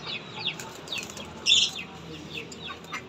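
Pigeons released from their coop, with soft wing flaps and scattered chirps and clucks nearby, over a faint outdoor background and a brief louder flutter midway.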